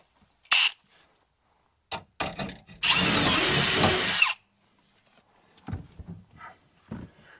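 A power drill whirs steadily for about a second and a half, drilling aluminum, amid scattered clanks, knocks and handling noises of metal work on a 1971 Cutlass.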